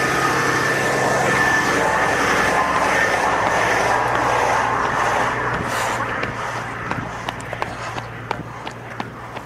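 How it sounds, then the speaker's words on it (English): A truck rumbles on the road nearby with a steady engine drone, the sound thinning toward the end as clicks and knocks from inside the vehicle come through. "We're stopping because of this truck."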